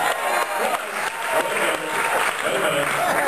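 An audience at a Giants baseball town hall event applauds a player introduction, dense steady clapping with crowd noise throughout at an even, fairly loud level.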